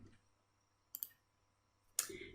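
Two crisp computer mouse clicks about a second apart, sharp and close in a quiet room, the second slightly louder than the first.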